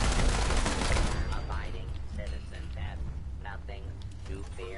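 Turrets fire in rapid bursts during Fallout 4 gameplay, loud at first and then fading back as a player talks over the continuing shots.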